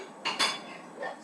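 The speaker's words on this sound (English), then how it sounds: "Stir the beans." A spoon scrapes and clinks against a pot while stirring beans, with two quick metallic strokes and then a softer third, close and alone.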